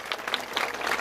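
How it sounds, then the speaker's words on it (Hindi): Crowd at a political rally and welcome gathering clapping loudly, a brief, dense burst of applause lasting about a second. "जोरदार तालियां बजाएं"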